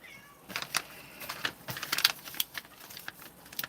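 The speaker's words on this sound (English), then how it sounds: "My cat wants out." A house cat meows repeatedly, wanting to be let outside, with a series of short, fairly faint meows at close range over a quiet background.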